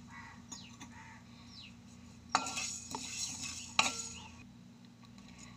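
Peppercorns and whole spices stirred in a pan over a medium flame, with a soft steady sizzle under scraping utensil strokes and two sharper clanks against the pan.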